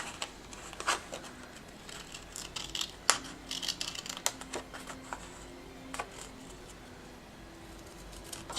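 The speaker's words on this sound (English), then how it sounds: "then you're just going to use your scissors and trim that off." Scissors trim designer series paper at a crafting table, giving quiet, scattered snips and light paper rustles, close and faint, with no talking.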